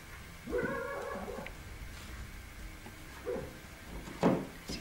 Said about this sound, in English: my puppy's having a dream in the background